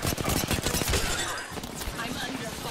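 Rapid bursts of gunfire in the battle royale shooter Apex Legends, with dense overlapping shots up close, fading into a rumbling firefight while game voice lines play over it.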